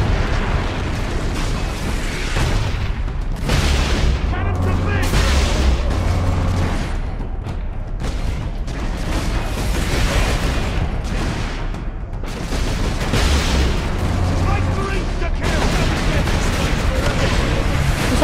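Rocket explosions in Warhammer 40,000: Space Marine, a loud, sustained barrage of booms and bursts layered over game noise, with brief lulls between dense clusters of blasts.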